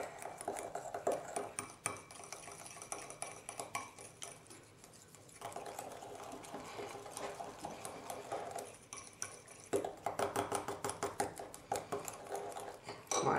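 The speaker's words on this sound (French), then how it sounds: "on va remuer avec le petit fouet" A small whisk stirs a cosmetic firming-cream mixture in a bowl, giving continuous rapid clinking and scraping against the bowl that swells and eases in bursts, with no talk over it.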